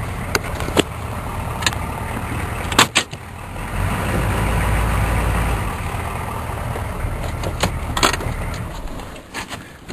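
A K5 Blazer truck engine cranks and catches, settling into a steady, close idle rumble with a few sharp clanks and knocks along the way.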